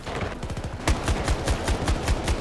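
Shotgun blasts in a video game, fired in a quick steady rhythm of about a dozen close, punchy shots with heavy low thumps, loud and continuous over a noisy background.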